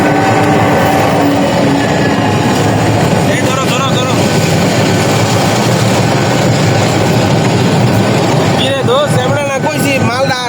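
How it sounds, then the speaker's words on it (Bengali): Train passing on a railway line in hilly country near the Indian border, a loud continuous rumble and rattle of wagons close by, with people talking over it toward the end. "ট্রেন আসতেছে"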